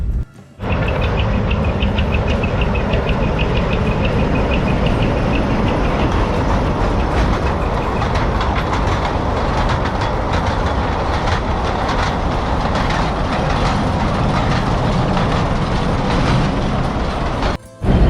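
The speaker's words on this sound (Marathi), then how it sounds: "आत्ताच माझ्या पाठी तुम्ही पाहिली असेल टॉय ट्रेन जी आहे ती रिटर्न गेली" A toy train heads back along its route at Elephanta Caves in Mumbai, its steady rumble and clickety-clack of wheels running loud and continuous for the whole stretch, with no talk over it.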